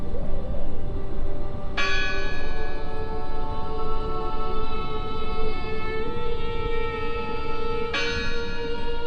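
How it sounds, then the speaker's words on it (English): A church bell rings in the video game Draugen, two distinct metallic strikes several seconds apart whose bright ringing tones hang and decay over a steady low background murmur, with no voices. "I heard the bell."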